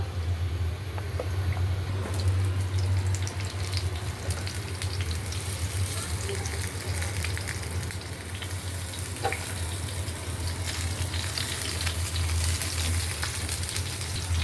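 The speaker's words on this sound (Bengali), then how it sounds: "আমি সরিষার তেল দিয়ে বেগুনটা ভাজবো" Eggplant fries in mustard oil in a pan with a loud, continuous sizzle and crackle that stays steady throughout, with faint clinks now and then.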